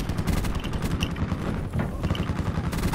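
Rapid automatic gunfire in Call of Duty: Black Ops 4 on PS4, a dense stream of close, loud shots and bursts filling the whole stretch with scattered sharper cracks.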